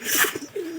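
A pigeon coos while feeding, giving a short, close, soft warbling call that rises and falls over under a second, with no one talking.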